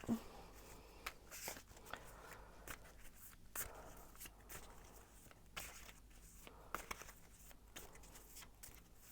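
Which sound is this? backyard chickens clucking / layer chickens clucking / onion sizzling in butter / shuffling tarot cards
shuffling tarot cards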